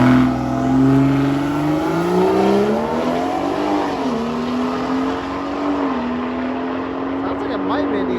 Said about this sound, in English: Sounds like it might be a diesel.